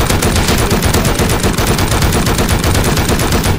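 Rapid, sustained automatic gunfire in the survival game Rust, loud and close, with shots packed tightly and unbroken for the whole stretch.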